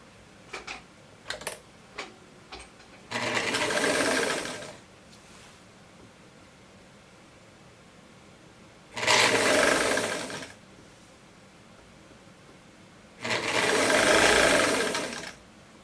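A sewing machine stitches a summer sun dress in three loud, steady bursts of rapid mechanical whirring, each lasting a couple of seconds, with quiet pauses between and a few soft clicks and taps near the start.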